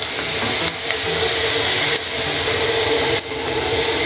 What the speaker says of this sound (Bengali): এ পর্যায়ে আমরা দিয়ে দিচ্ছি আদা রসুন বাটা